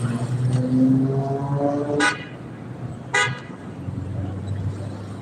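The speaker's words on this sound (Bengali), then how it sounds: "দেখেন পুলিশের গাড়ি আইছে" A police car horn sounds in two short blasts over a running engine and nearby road traffic, with faint voices in the background.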